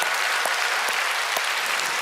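Sustained clapping from a church congregation during a Friday night worship service, a thick continuous roar of many hands at constant level throughout, with no voices on top.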